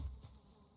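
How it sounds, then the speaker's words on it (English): Bees buzzing around a spot in the Valheim video game, a faint, soft insect drone with a slightly louder burst at the start that fades into a low, steady hum. "There's a bee here. We need that."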